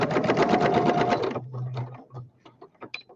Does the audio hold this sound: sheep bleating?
no